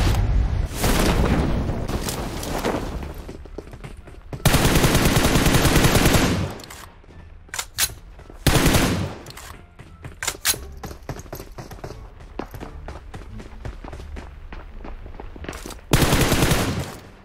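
Gunfire in the mobile shooter PUBG Mobile: loud, sustained automatic bursts and single cracks with booming blasts, long stretches of rapid fire broken by short pauses, no speech.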